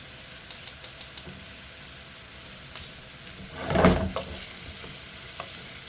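Oil sizzling steadily in a big cast aluminum fry pan for pasta, with a few sharp clicks early on and a louder, denser burst of frying and stirring near the middle, no voices.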